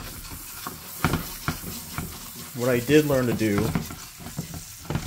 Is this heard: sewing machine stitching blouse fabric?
no